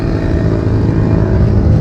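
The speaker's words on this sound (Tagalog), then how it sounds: "So ayan yung motor natin." A Yamaha Mio Gravis scooter engine running on a dark, wooded zigzag road climbing toward Antipolo, a loud, close, continuous low drone with steady engine hum and no talking.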